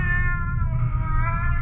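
A pet cat in a cold setting lets out a drawn-out, tonal meow that wavers in pitch over a low rumbling background, heard alone without talk.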